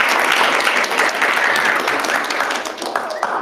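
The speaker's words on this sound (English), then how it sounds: "Let's give a round of applause to our" Audience applause for spelling bee students at a school event, dense and steady clapping that tapers slightly toward the end.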